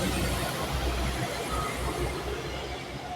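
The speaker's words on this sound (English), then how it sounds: "Here comes the next train by the sound of it." An early-morning train passes close by as a steady, loud rumble of rail noise with broadband wheel roar, unbroken throughout and no talk over it.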